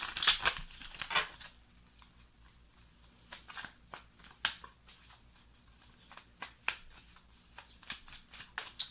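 Tarot cards riffle and snap together close by, starting with a rustle and continuing as a quick run of crisp flicks and shuffling clicks, fairly quiet.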